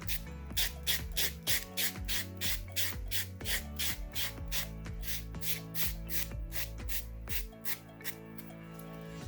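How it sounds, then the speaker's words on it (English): Steady back-and-forth rubbing of a nail buffer smoothing acrylic press-on nails, a rhythmic scratchy swish repeating about twice a second, close and fairly quiet, with no talking. "I'm going to go in with a buffer just to further, you know, smooth everything out."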